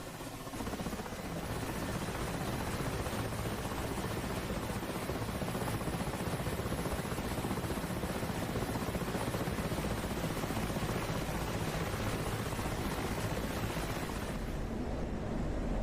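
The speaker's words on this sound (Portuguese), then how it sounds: "o helicóptero entrou no espaço aéreo turco, perto da cidade de Yayladá, voando a 14 mil pés" A helicopter flies in Turkish airspace, a steady, dense, distant-sounding rotor and engine roar that holds evenly for about fifteen seconds and then cuts out abruptly.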